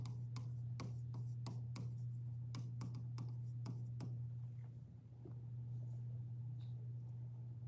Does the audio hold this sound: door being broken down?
no